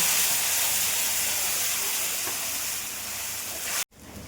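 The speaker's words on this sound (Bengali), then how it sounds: "এবার এই মশলাটাকে দিয়ে ভালো মতো আমি কষব" A spice paste of Kashmiri chilli powder and biryani masala fries in a pan for vegetable biryani, giving a loud, steady hiss that cuts off abruptly just before the end.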